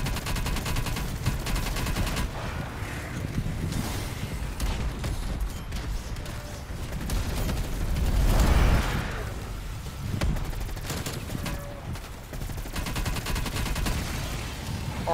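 Video game gunfire in a constant loud stream of rapid shots and bursts, with a heavier boom swelling near the middle of the stretch.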